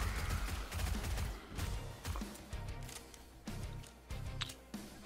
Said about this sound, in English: Is that the super submachine gun or is that the regular?